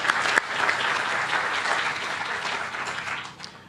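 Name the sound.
audience round of applause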